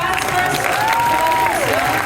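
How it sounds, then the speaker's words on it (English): Convention audience applause at a House of the Dragon fan panel with Matt Smith and Fabien Frankel, a continuous loud wash of clapping and crowd noise with a faint voice or whistle-like tone running through it. "can we have a round of applause for the fans?"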